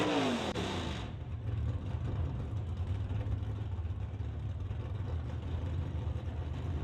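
A Camaro and a Malibu drag racing cars in the stock and super stock classes idle and rumble with a loud, steady low engine drone after a brief rising rev at the start.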